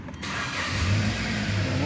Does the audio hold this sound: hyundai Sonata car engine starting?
yes